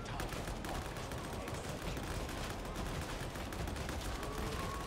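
Rapid tap-fired gunfire from a Veteran commando's weapon in the video game Darktide, a dense continuous barrage of shots filling the whole stretch at steady loudness with no talk.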